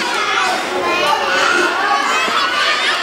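Young children aged 3 to 5 play together at an orphanage in Vietnam, a steady chorus of high, excited voices, chatter and squeals filling the space at close range without pause.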